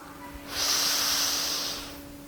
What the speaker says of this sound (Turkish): Son kez derin bir nefes al.